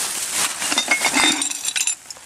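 Glass kitchenware clinking and knocking together as it is sorted through in a storage unit, a busy cluster of bright clinks that thins out toward the end.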